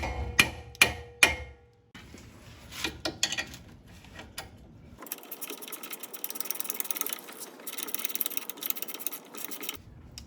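Ratchet tightening the rear track bar bolt on a 1997 Jeep TJ, a few sharp metallic knocks followed by quick repeated clicking strokes, close and moderately loud, no speech.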